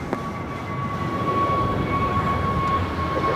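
Frontier Airbus A320 jet engine roar at LAX, a steady broad rumble holding at even loudness with a thin high whine running through it, no voices.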